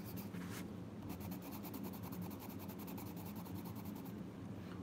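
A colored pencil in English red scrapes across paper during a coloring session, a soft, steady rhythm of quick back-and-forth strokes, faint and close with no voices.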